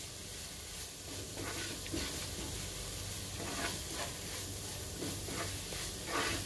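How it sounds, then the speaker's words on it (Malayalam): Spice powders sauté in a pan for bread masala, giving a steady, close sizzle and hiss with soft scraping and stirring strokes running throughout. "ആ പൊടികളുടെ ഒക്കെ ഒരു പച്ചമണം ഒന്ന് മാറി കിട്ടുന്ന വരെ ഒന്ന് വഴറ്റി കൊടുക്കണം."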